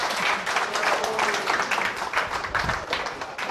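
An audience at a lecture applauds, moderately loud clapping that swells and fades slightly over a few seconds, no speech over it.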